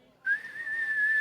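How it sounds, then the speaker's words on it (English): A tea kettle whistles in a steady, piercing high tone that starts abruptly after a brief quiet moment and holds on, fairly loud and close, with no talking over it. "from the whistling of the kettle as you ask this"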